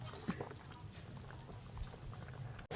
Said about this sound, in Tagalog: Add tayo ng konting tubig.